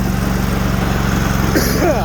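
A Sears Suburban snowblower with a 20HP Briggs V-twin engine runs at about half throttle in deep snow, a close, loud, steady throbbing engine drone.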